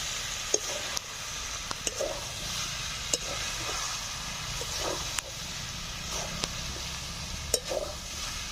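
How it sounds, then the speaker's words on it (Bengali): Chicken pieces stir-fried together with boiled potato and young jackfruit, giving a steady close sizzle broken by scraping stirs and small clacks of a utensil against the pan. "এখন সেদ্ধ করে রাখা আলু আর এঁচড় দিয়ে আরো কিছু সময় ধরে কষে নেব।"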